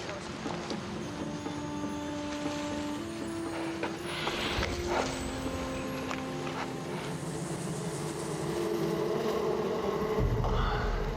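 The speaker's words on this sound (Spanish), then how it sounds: "El sonido de la carretera resulta ser un panal de abejas" A jungle beehive gives off a steady, faint buzzing drone of many bees, with a few tonal hums and scattered rustles in the background.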